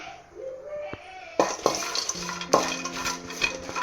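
Garlic being added and stirred in a pan with dry fish for a village-style dry fish chutney, with clattering spoon scrapes and knocks against the pan over a low background hum, heard close and fairly loud.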